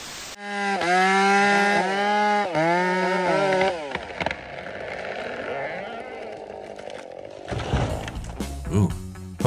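A chainsaw whines loudly in rising and falling revving bursts, then drops to a rougher idle while clattering sounds follow.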